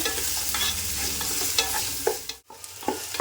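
Onions fry in a pan for a coconut-milk mutton roast, giving a steady close sizzle with scraping stirs throughout and a brief pause near the end, with nobody talking.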